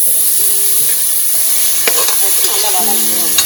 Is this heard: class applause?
no